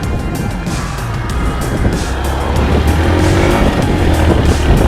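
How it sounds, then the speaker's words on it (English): A Toyota Rush drives past at night in harsh, windy weather, giving a steady broadband road and tyre roar that swells slightly louder toward the end, with wind noise over it. "there's the Toyota Rush again"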